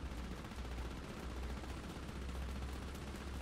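Dense, continuous rapid gunfire aimed at the player in a naval combat video game, a steady close-range rattle of shots with no pauses.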